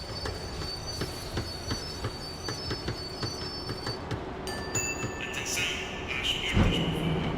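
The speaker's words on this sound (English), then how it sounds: "The tram was slowing down, and I'd only just gotten on board." A tram in the Max Payne 3 video game slows down, with steady rolling rumble, regular wheel clicks and rising metallic wheel squeal near the end; no speech.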